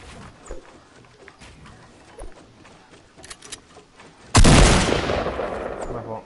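A single loud, close gunshot fires in the Fortnite video game, with a long decaying tail that follows the sharp crack after a stretch of quieter in-game background noise.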